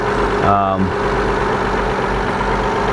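A Mazda 626 engine idles with a steady low rumble, close by, with a brief tonal voice-like sound near the start.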